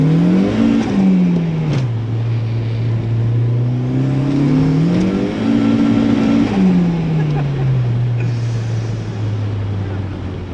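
A warm car on wet roads accelerates hard during a boost-by-gear and launch-control test, its engine note climbing, dropping and rising again through gear changes, loud and close from inside the cabin.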